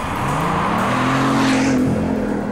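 Mansory Vincero supercar, a tuned car with over 1000 hp, driving with a loud, steady engine drone and rising pitch heard from close by, no talk.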